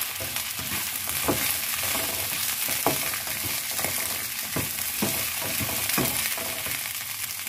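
Minced garlic fries in hot oil while chicken wings are cooked for satay sauce. A steady close sizzle runs throughout, with regular scraping strokes as the spatula stirs the pan.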